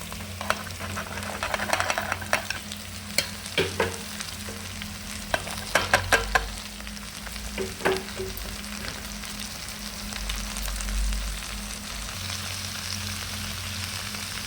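Potatoes and ivy gourd (tindora) fry in a pan for a curry, giving a steady soft sizzle broken by sharp scraping stir clicks, with no talking.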